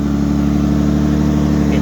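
2003 Ford Taurus SEL engine idling rough and noisy at low RPM, a close, loud, steady low hum with a pulsing, uneven throb.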